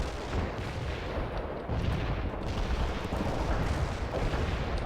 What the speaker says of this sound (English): Artillery strike on the way. Coordinates confirmed.